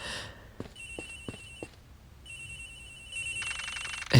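A phone in the video game Edgeworth Investigations rings in short electronic trills, a few repeated bursts with brief gaps between them, fairly quiet and clean with no voices.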